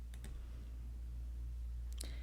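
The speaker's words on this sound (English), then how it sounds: "you would drop that teardrop by clicking anywhere you would like to register a location" A computer mouse clicks on an online map. Two quick double clicks come at the start and near the end, faint and close, against a quiet background hum.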